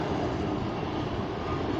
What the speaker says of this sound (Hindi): ये ज़ाहदान जा रही है जी ट्रेन